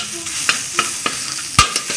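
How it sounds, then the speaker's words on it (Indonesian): Garlic and ginger sizzle as they are sautéed in a little cooking oil in a pan, a bright steady frying hiss broken by several sharp scrapes and taps of a utensil stirring, close and loud. "tumis bawang putih dan jahe."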